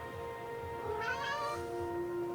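A single drawn-out cat meow rises and falls near the middle, fairly clear over a steady hum of background game music and ambience, with no voices.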